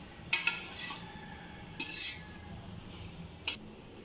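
Boiled chickpeas being stirred and roasted in a pot, with a few sharp metal spoon scrapes and clinks against the pot over a low background hiss, no talk.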